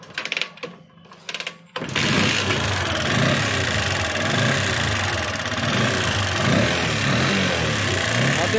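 A TVS Apache motorcycle engine idles steadily and close, with a busy mechanical tappet-ticking rattle over the running note after a few quiet seconds at the start.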